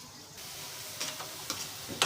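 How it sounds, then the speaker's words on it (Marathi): Onions fry in a pan while making karela bhaji, a quiet steady sizzle with a few soft scrapes and taps of stirring. "तर अशा प्रकारे आपण कांदे पण तळून घेऊया."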